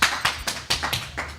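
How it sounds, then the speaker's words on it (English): An audience at a symposium claps hands in a steady series of loud, crisp claps, about six evenly spaced bursts, close and alone without talk. "Anyone want to clap?"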